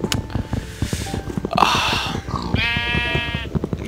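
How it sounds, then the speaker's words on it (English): A sheep in the Minecraft video game bleats once, a clear, wavering cry heard over soft repeated clicking and thumping game sounds. "Get out of here, sheep."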